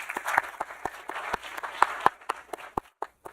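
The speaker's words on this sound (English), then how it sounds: "Let's give a last round of applause for them." Audience at a quantum technology program launch event applauding at the close of talks; sparse, scattered claps from a modest crowd, irregular and moderately close, thinning out toward the end.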